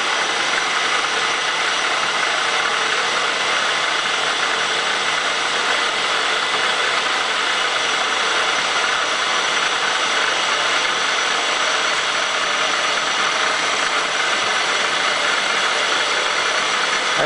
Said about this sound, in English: Spindle's running about 1500 RPM and I'm cutting at 2 inches a minute